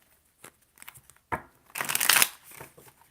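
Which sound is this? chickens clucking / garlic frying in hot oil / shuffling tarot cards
shuffling tarot cards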